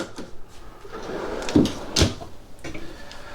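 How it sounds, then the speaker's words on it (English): A couple of large pull-out drawers in a 2024 Forest River Flagstaff Micro Lite 25DK travel trailer slide and thump shut, two distinct knocks with softer rolling scrapes around them, close by. "Storage all over the place. Big pull-out drawers"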